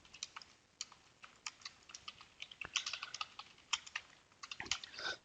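Rapid, uneven keystrokes on a computer keyboard while code for a dashboard web page is typed, the clicks close and crisp with short pauses between bursts, and no voices.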